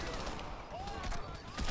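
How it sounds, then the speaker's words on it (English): Rapid bursts of gunfire crackle through a Crackdown co-op gameplay session, quiet and scattered in the distance, with game noise and voices around them. "there's so much gunfire, but I can't see any people"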